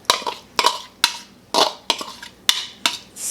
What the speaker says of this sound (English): then we're going to go ahead and put in all of our pumpkin puree